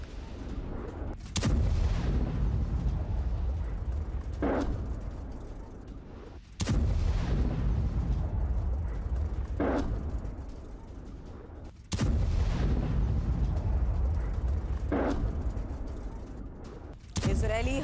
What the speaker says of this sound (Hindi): आईडीएफ ने रिहायशी इलाके में बमबारी की।